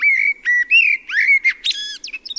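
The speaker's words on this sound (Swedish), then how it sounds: "Hör ni den där lilla gnissliga knorren på slutet?" A Eurasian blackbird sings a clear, fluting phrase of whistled notes, ending in a short, squeaky thrush-like twitter; close and alone, no talking.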